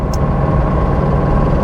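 A 1960s-era Porsche 912 flat-four engine driving in fourth gear at about 2,000 rpm, a steady low cabin drone heard alone for a brief moment.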